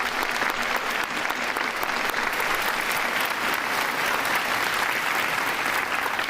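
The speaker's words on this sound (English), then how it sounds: "Let's give all those groups a real big round of applause." Sustained, dense applause from a school audience at an 8th grade recognition ceremony, loud and even throughout with no pauses.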